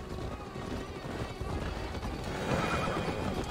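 A horse neighs with hooves clattering in Assassin's Creed Valhalla, amid steady, dense battle and crowd noise lasting the whole stretch and swelling slightly toward the end.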